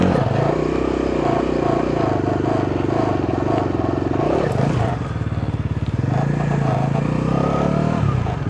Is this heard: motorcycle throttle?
yes